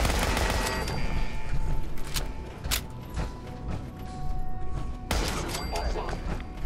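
Automated turret gunfire in the video game Fallout 4, heard as scattered bursts of shots and sharp mechanical clatter over dense game noise, with a heavier volley near the end.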